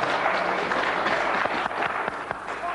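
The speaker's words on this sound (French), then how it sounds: "Mais c'est moi qu'ils applaudissent." Studio audience applause on a French TV letters-and-numbers game show, a dense steady wash of clapping from a crowd held at even loudness throughout, with a few sharper individual claps standing out.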